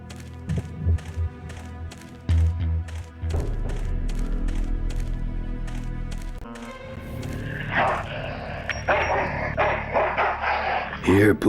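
Dog barking in the Full Throttle video game, repeated sharp barks and thumps early on, followed by a noisier stretch of game sound effects, with no speech.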